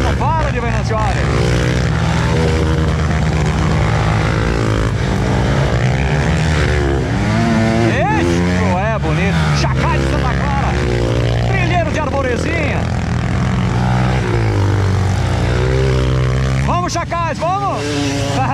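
Trail motorcycles, including two-strokes, rev and accelerate repeatedly at a trail riders' meetup in Rio Grande do Sul, Brazil. The engine whines rise and fall close by, layered over each other, with someone shouting throughout.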